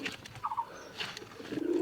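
A pigeon sitting on a clutch of eggs coos in a short, soft, rolling burst, close by and alone with no talk.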